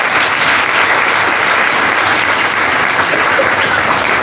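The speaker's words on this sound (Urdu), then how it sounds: "ہمیں ان کے لیے زوردار تالیاں بجانی چاہیے" A church congregation at Sunday Mass applauds loudly and steadily, a dense unbroken wash of many hands clapping that holds throughout.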